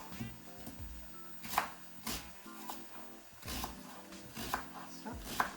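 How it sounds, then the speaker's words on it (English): Two big onions chopped on a board, with sharp knife strikes spaced irregularly, some in quick pairs, fairly quiet and close, with faint low background murmur between cuts. "with 2 big onions, chop them up"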